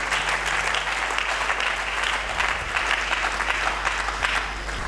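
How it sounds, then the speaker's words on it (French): A church congregation breaks into loud, sustained applause, dense clapping from a large crowd that stays strong and even throughout, with no voices standing out above it. "Est-ce que nous pouvons acclamer très fort?"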